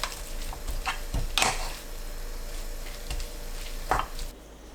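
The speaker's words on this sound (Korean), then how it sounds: "소스와 진미채가 골고루 섞이면 중불로 켜서 1분 볶습니다" Dried shredded squid is stir-fried in jjajang sauce over medium heat: a soft, steady sizzle with occasional spatula scrapes and taps against the pan.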